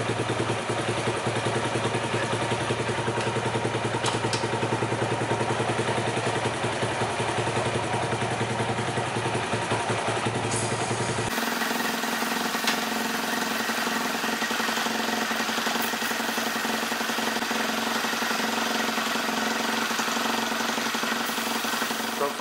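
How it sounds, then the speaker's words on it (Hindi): A motorcycle engine idles in first gear with the rear chain turning, a steady mid-pitched running note with light clatter that continues throughout, shifting slightly in tone partway through, with no talking. "इसके लिए बाइक को हम स्टार्ट कर लेंगे और पहले गियर पर डाल के छोड़ देंगे।"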